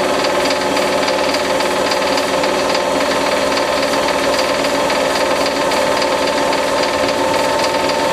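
A CNC spindle motor runs continuously during calibration, a loud steady whine with dense tonal harmonics and constant level throughout, with no talking.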